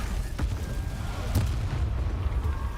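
A Bombarda spell explosion in Hogwarts Legacy, heard as a couple of dull booming bursts with rumbling low end over continuous game background noise.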